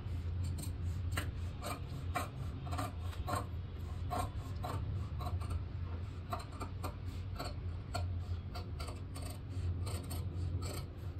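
Scissors cutting through marked cloth with rapid, close, rhythmic snipping and rasping strokes over a low steady hum.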